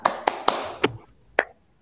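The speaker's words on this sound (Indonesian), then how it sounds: "kita melakukan tepuk semangat dulu." A classroom does a rhythmic spirit clap, tepuk semangat: five sharp, close hand claps in a patterned rhythm, with a short pause before the final clap, in an otherwise quiet room.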